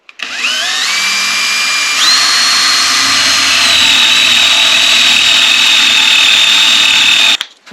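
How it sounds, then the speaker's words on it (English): A drill with a Forstner bit bores a depth-stopped recess into a cigar box ukulele, a loud, steady whine that rises in steps as the motor reaches speed, then holds before cutting off. "I've set a Forstner bit and I've set a depth stop so we don't go through"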